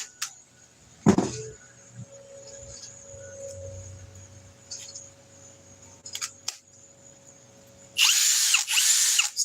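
A power tool powered by a stacked Flex lithium battery running on only two cells whirs loudly for about a second and a half near the end, after a quiet stretch with a few faint clicks.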